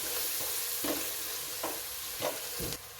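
Onions, dried red chillies and turmeric frying in oil for a Rayalaseema fish curry, a soft continuous sizzle with a few scraping stirs spaced about a second apart, close but fairly quiet.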